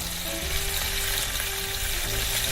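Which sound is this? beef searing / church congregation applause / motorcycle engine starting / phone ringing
beef searing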